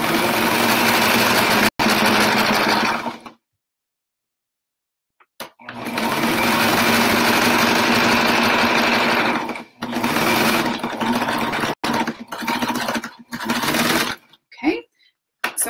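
A sewing machine chain-stitches pillow cover pieces, running in loud steady bursts with brief pauses between them and a few short stops and restarts near the end.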